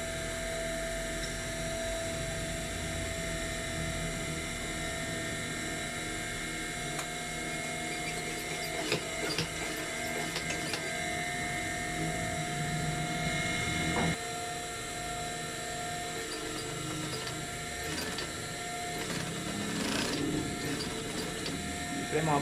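An old, worn sewing machine runs noisily and steadily throughout, a dense mechanical clatter with ticking and whirring that holds nearly constant loudness, with a few sharper knocks partway through.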